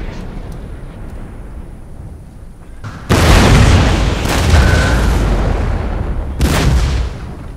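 Artillery fire in the video game Napoleon Total War with Prussia: after a quiet stretch, a loud cannon boom hits and rolls into sustained rumbling, then a second heavy blast follows near the end.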